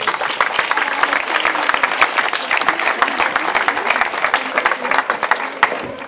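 A public crowd at a neighbourhood festival flag raising in Barrial de Gáldar applauds loudly, with close, crisp individual claps in a dense burst and a few voices underneath.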